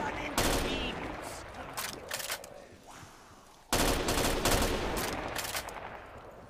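Bursts of video game gunfire ring out loud and close in two rapid volleys, the second starting abruptly and running dense to the end.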